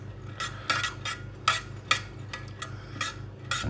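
A spoon stirring stock cube, turmeric, salt and pepper into a chicken curry pot, with a series of close, sharp scraping clinks at an irregular rhythm over a low background hum.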